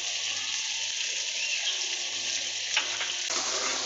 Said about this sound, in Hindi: 10 मिनट के लिए हम इसको भून लेंगे।